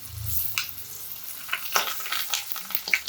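Onion and sliced mango sizzle in hot tempering oil as they are stir-fried, with a soft steady crackle and scattered scraping stirs from a spoon, close and fairly quiet.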